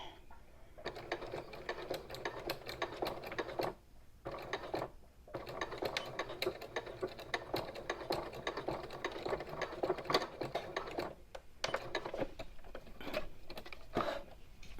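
Sewing machine fitted with a size 14 jeans needle stitching a small fabric bag, steady close mechanical whirring in runs broken by several short pauses.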